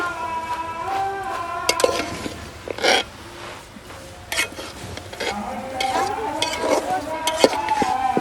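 Food is stirred and sautéed in a pot in a village kitchen, with scraping and light sizzling throughout and people talking over it.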